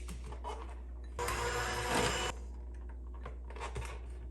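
Flour, baking powder and salt for empanada dough are mixed briskly in a bowl, a dense scraping rush of about a second in the middle, with quieter light scrapes and taps before and after.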